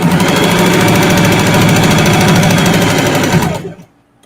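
A manual sewing machine stitches fabric in a loud, close, steady mechanical whir with rapid needle rhythm, running continuously before stopping abruptly near the end.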